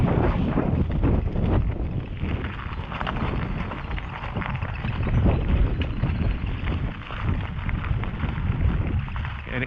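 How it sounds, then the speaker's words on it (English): Strong wind buffets and roars across the microphone in an open rock cut along a rail line, a continuous loud rushing with gusty swells and no speech. "Oh, that wind is nasty when it blows."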